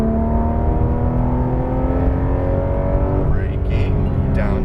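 Porsche 911 GT3 engine pulling hard on a race track, a loud, steady high-revving drone with rising pitch as it accelerates down a short straight, with a voice talking over it.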